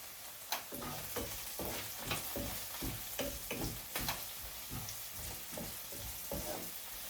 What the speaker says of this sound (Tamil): இதை பாருங்க வதங்கி கொண்டிருக்குது